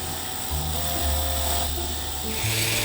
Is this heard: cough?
no